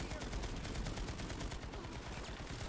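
Rapid gunfire in the online shooter Planetside 2 on PS4, with dense repeated shots crackling steadily throughout at close range.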